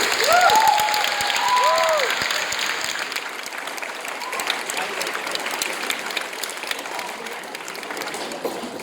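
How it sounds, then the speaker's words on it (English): Audience applause welcoming a judge at a school Shakespeare drama competition, a crowd clapping steadily for several seconds and gradually easing, with a few short whistles at the start. "Can we give her a round of applause?"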